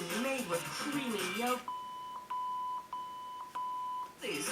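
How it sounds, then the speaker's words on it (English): Talking gives way to a series of short electronic beeps from a radio, evenly spaced and clean, before a voice returns at the end. "the radio will give you a single confirmation beep"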